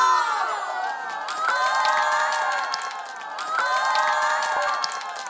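Students at a university campus meal event cheer loudly as a crowd, with shouts and whoops rising in two swelling waves and sustained excited voices throughout.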